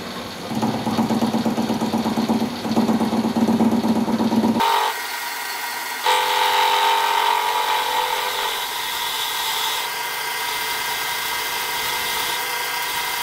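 A metal lathe turns down the shank of a boring head, producing a steady whirring drone that drops abruptly partway through into a quieter cutting hiss, with no voices.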